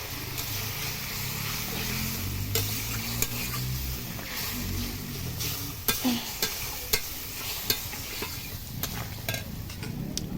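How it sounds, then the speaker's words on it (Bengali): Gravy from an egg curry going into a hot frying pan, with a soft continuous sizzle, spoon scraping and stirring, and a few sharp clinks of utensil on the pan, close and moderate in level. "এবার আমি ঝোলটা দিয়ে দিচ্ছি।"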